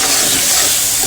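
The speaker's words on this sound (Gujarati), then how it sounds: "હવે આપણે ડુંગળીને સારી રીતે સંતળાવા દઈશું।" Onions sautéing in a hot pan with potatoes and turmeric, a brief, loud, close burst of steady sizzling hiss.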